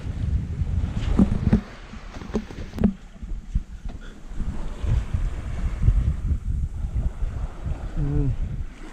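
A sailboat runs on a broad reach with all three sails out, wind buffeting the microphone over a steady wash of water and creaking rigging.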